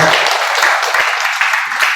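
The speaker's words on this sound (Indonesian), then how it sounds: "boleh tepuk tangan untuk aula gedung kita" Loud, sustained applause from a large audience at the inauguration of a school hall, many hands clapping together in a continuous wash with no voices on top.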